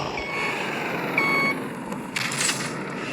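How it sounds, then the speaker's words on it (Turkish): An old-model Mercedes bus engine in Bus Simulator Ultimate runs as a steady, close, broadband drone, with a brief tonal beep and some clatter partway through. "şu otobüsün sesi var ya beni benden alıyor ya"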